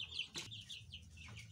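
A French-breed rooster and hen in a backyard coop cluck close by, with a few short fowl calls and bursts spread over a second and a half.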